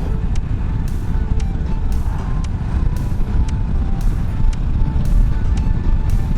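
A motorcycle cruises at a steady 80 km/h with a throttle lock holding the speed. A constant engine drone and heavy wind rush run unbroken throughout.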